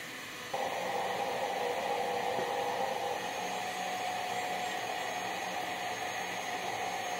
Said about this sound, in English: So I'm going to turn it back on and put the Oreos in the blender.